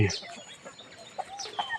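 Chickens clucking softly in short, scattered calls with light bird chirps, a little distant, over faint outdoor background in a garden behind a temple in Lampang, Thailand.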